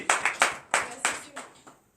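A church congregation applauds during morning prayer, sharp claps arriving in several bursts that fade out over two seconds, with a voice speaking alongside.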